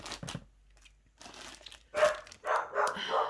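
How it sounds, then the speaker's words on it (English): A dog barks indoors in a few sharp, loud bursts near the end, after softer crinkling sounds from handling packaging. "The dog."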